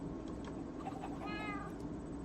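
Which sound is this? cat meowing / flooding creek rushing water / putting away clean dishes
cat meowing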